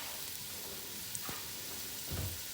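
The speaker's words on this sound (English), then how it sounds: "Now the onions, the carrots, and the ham, I'm going to throw in. I'm going to let those cook for about 5 minutes." Onions, carrots and ham sizzling in a pot of pea soup, a soft, steady crackle with a brief clatter of stirring near the end.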